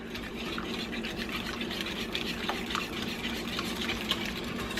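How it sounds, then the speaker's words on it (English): Sour cream and three eggs whisked together in a bowl for a lemon loaf batter, giving a steady wet stirring and scraping with faint clicks of the whisk against the bowl, close by with no talking. "I've got a cup of sour cream and 3 eggs. And we're going to whisk this together."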